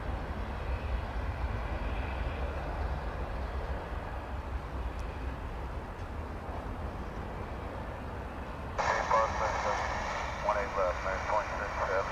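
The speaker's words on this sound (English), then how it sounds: "that's flight 1225, American Airlines to Los Cabos in Mexico" An American Airlines passenger jet bound for Los Cabos at DFW Airport, heard as a steady, broad engine roar from a distance that holds level throughout, with a brighter, louder surge in the last few seconds.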